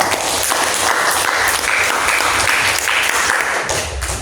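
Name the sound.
applause from class participants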